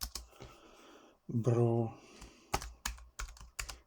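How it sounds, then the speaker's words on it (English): Keystrokes on a computer keyboard, a few sharp clicks and short runs of taps at close range, with someone speaking briefly in the middle. "now you have to type samtools index"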